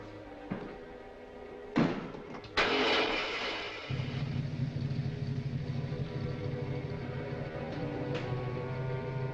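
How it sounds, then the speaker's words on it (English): A car motor turns over and settles into a steady low running drone after a couple of sharp thumps, heard close in a 1946 mystery thriller with no voices over it. "Start the motor."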